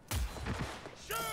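Gun turrets fire in Cyberpunk 2077, a loud burst of gunfire bursting in near the start and holding through a dense stretch, with a sharper blast near the end.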